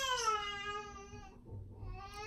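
A young child cries somewhere in a home, a sustained wailing cry that rises and then fades, faint and distant under low room noise.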